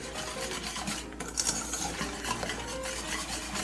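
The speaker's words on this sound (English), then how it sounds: "And then whisk together until a thick paste is formed." Cornstarch and sugar are whisked into a thick golden paste in a pan, producing a close, busy scraping and swishing of the whisk with soft clicks against the metal, with no voices.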